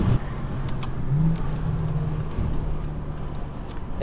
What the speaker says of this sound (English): So you guys can hear the turbo and just see how the car drives